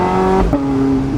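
Porsche 918 Spyder engine and exhaust roaring from inside the cabin, a loud steady drone with a pitch shift midway as the revs change, close and continuous with no talking.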